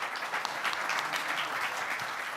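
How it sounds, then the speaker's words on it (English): An audience at a leadership-stage panel session applauds the panelists, a steady wash of many hands clapping at moderate level without a break. "Let's give our panelists a round of applause."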